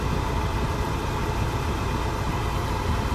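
A 1985 Volvo 240 engine runs at a raised idle soon after its first start, a steady, close, even drone holding constant for a few seconds.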